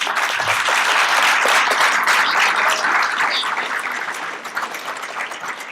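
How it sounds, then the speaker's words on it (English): Sustained applause from an audience at a credential program orientation, a dense steady wash of clapping that fills the room and tapers slightly toward the end. "So please give them a round of applause."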